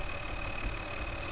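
Tractor engine idling in Farming Simulator 2013, a steady low rumble with a faint constant whine held throughout, fairly loud and unbroken, with no talk.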